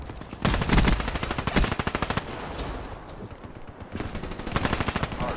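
Weevil gun in Black Ops 3 multiplayer firing on rapid fire, long loud bursts of fast automatic shots, a short pause, then another burst, with no talking.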